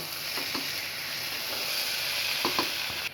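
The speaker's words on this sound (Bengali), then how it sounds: "মশলার সাথে ভালোভাবে নুডলস মিলিয়ে নিয়েছি" Chicken noodles with spices and tomato sauce sizzle in a hot pan while being stirred, a steady close frying hiss with soft scraping strokes of the spoon now and then.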